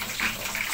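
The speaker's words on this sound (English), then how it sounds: "Then I will add some water so that the soup can be delicious." Water pours into a pot of chicken soup in a short, steady gushing splash, close and fairly loud.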